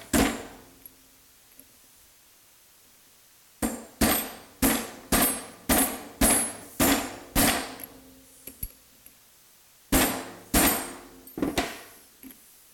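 Repeated sharp taps drive a piece of tubing down onto a roller pump impeller to seat it, with single taps, a fast run of about eight evenly spaced knocks, then a few more, loud and close with quiet gaps.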